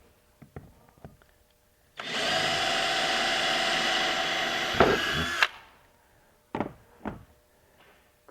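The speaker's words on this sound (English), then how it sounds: "while we drill our other holes" A power drill bores holes for a kayak deck mount bracket in one loud, steady whine lasting about three seconds, framed by scattered clicks and knocks of handling the parts.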